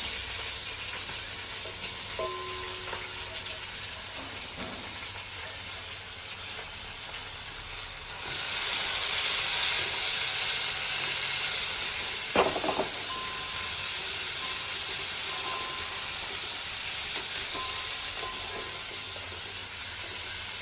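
Sliced onions and fennel seeds hit hot oil in a home kitchen, and a steady hiss jumps noticeably louder midway and then holds as a dense, close sizzle, with a few faint clinks and no talk.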